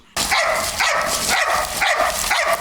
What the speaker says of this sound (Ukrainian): Не минає і хвилини, як собака подає знак.